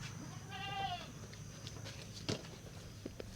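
A goat gives one short wavering bleat close by, followed by scattered footsteps and small knocks in a quiet rural setting.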